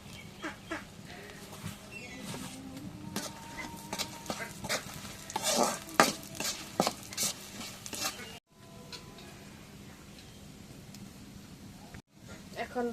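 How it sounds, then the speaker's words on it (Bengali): Garlic and cumin fry in hot oil in a wok with a steady sizzle and repeated scraping stirs and clinks, while goats and birds can be heard faintly in the rural background. "এখন রসুন জিরে ভাজা হয়ে গেছে।"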